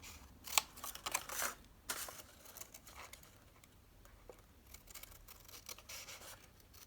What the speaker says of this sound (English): I'm just angling my scissors slightly so that I'm slightly cutting underneath the straight line of that triangle